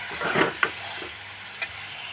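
Masala paste frying in oil in a pan for Khandeshi matki dal gives a soft, continuous sizzle. A few sharp spoon scrapes and clicks cut through it, with no voices.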